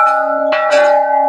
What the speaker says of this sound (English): here's the chimes